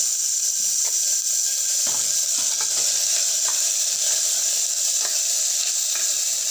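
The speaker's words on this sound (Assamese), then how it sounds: "অলপ সময় ভাজি লৈ আদা নহৰুখিনিও দি দিছোঁ" Ginger-garlic paste frying in hot oil in a pressure cooker with chillies, bay leaf and cumin, a steady bright sizzle and steamy hiss with a few soft scrapes and taps of a spoon, close and uninterrupted.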